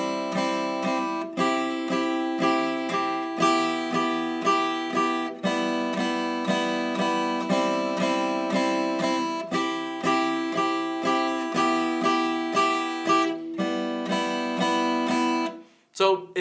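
A guitar plays the triad chords of a song, strummed in a steady rhythm with chords moving up and down the neck, loud and close, ending with a short pause and a final strum.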